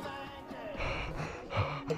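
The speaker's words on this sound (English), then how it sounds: "you can literally just hear your breathing." Close, heavy breathing right against the microphone on an outdoor hike, with a few sharp, gasping intakes and exhales over two seconds and no talking.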